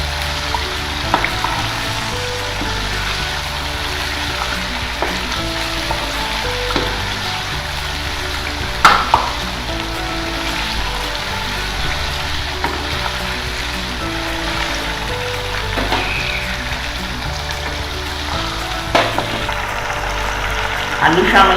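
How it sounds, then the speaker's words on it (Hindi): Meat and masala sizzle steadily in a pot while being sautéed for degi aloo gosht, a continuous frying hiss with occasional scraping stirs and small clinks, and a voice talking at times over it. "अभी भूनने हैं और हमने भूनना है इसको।"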